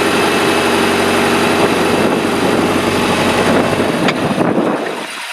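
A power boat engine runs in forward gear during fuel system troubleshooting, a loud steady close drone with a low rumbling hum that eases slightly near the end.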